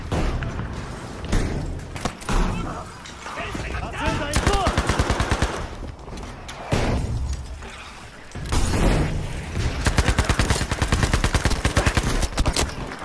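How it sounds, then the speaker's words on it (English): Gunfire in the video game Battlefield V, with bursts of rapid automatic shots and scattered single cracks, loud and close, broken by short gaps across the clip and mixed with game noise. "What the hell was shooting me?"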